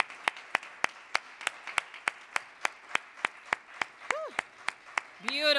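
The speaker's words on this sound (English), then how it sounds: "let's give them another round of applause" Sparse, evenly spaced claps ring out one after another, a slow steady rhythm, with a voice rising in over the final seconds.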